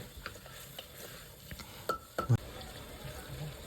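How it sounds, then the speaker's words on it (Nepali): Garlic and ginger paste frying in a pan for a goat mutton curry, a low sizzle broken by a few utensil clinks and scrapes against the pan. "लसुन र अदुवाको पेस्ट हाले पनि त्यसलाई मस्तले 1 मिनट भुटेँ"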